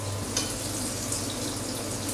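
Pork fillet frying with garlic in a hot pan, a steady close sizzle and crackle that keeps going evenly with no voices.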